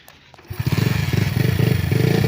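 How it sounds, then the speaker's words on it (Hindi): An old village motorcycle rickshaw engine cranks after a short quiet moment, then settles into a loud, close, steady chugging idle with rapid regular pulses. "ये हमारे गांव का पुराना रेड़ा है जो स्टार्ट होता है फिर बंद हो जाता है"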